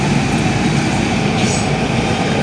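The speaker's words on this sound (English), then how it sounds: "the train is definitely much more convenient and cost effective" A Silver Line metro train rides toward Washington Dulles airport, heard from inside the car as a loud, steady rumble of wheels and rails. A faint squeal rises briefly midway, and no one speaks.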